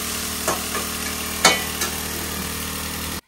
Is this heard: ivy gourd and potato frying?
yes